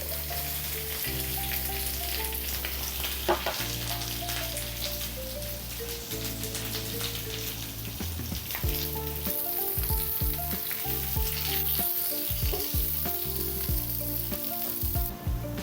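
Onions and curry leaves fry in a pan with a steady, dense sizzle and crackle that never lets up, while a music track plays over it.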